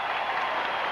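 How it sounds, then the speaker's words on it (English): A football stadium crowd applauds an injured player, a dense, steady roar of clapping throughout a brief moment. "This crowd for Randy Scott"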